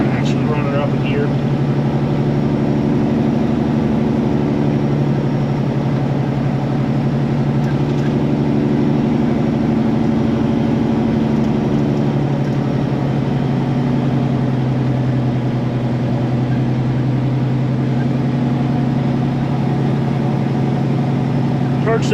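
A vehicle that is not very heavy, its engine shifted up a gear, rolls downhill on a Colorado mountain road. A loud, steady engine hum runs unbroken throughout.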